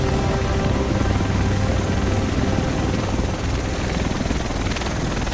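A helicopter arrives in the video game The Division, its rotor chop and engine roar filling the scene as a loud, steady, close drone throughout, without any talking over it.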